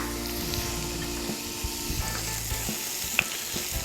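Garlic and onion frying in melted butter in a pan, a close, continuous soft sizzle with small crackles and a few light clinks, no voices over it.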